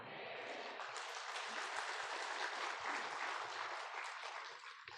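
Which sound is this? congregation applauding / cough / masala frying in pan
congregation applauding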